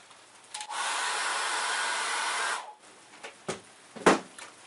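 A hair dryer blasts steadily for about two seconds while drying acrylic paint on card, then cuts off, leaving a few short knocks and handling sounds afterward.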